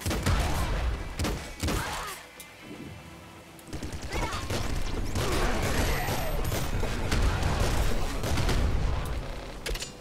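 Grenade explosions and rapid gunfire fill a Nuclear Throne game on the Switch, with dense bursts of shots and booming blasts, loud and continuous, pausing briefly before the firing resumes.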